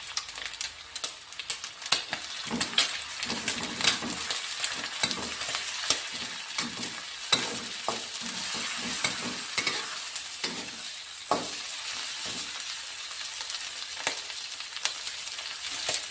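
Ground chili paste sizzling in a pan while being stirred for a dried sambal terasi, a constant bright crackle with scraping stirs throughout, close and steady, no talking.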